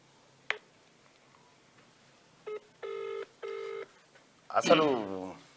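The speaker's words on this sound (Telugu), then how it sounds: "సిద్ధేశ్ అన్నకు ఒకసారి ఫోన్ కలుపు" Telephone dialing tones from a phone call being placed: a click, then a short tone followed by two longer steady dial beeps, ending with a burst of ringing or voice-like signal.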